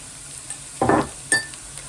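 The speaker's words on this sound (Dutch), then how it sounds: "het is lekker op een laag vuurtje aan het koken, aan het bakken" Fish frying in a pan over low heat for Surinamese kandratiki fish curry gives a soft, steady sizzle, broken by two brief clatters of a utensil against the pan.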